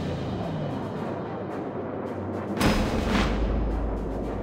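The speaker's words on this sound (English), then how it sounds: "Our cannons are ready." Cannon artillery fire in a real-time strategy war game, a sudden loud boom bursting in about midway and rumbling on to the end over a busy battlefield din of distant gunfire.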